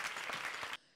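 Studio audience at a Comedy Circus comedy show breaks into dense clapping that holds steady, then cuts off abruptly near the end, leaving quiet.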